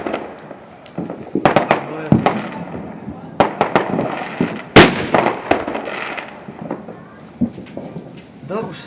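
A New Year firecracker battery goes off in a rapid irregular string of sharp cracks and booms, some louder and nearer than others, with voices talking in the background.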